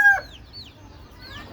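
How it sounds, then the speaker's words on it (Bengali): Laying hens cluck in short calls, with one loud close cluck at the start and softer, higher calls after it, over a low steady background murmur. "আমার রানিং ডিম পাড়া মুরগিগুলোর অবস্থা দেখেন"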